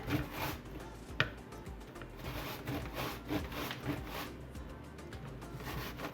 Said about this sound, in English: I'm just going to grate it here into my strainer.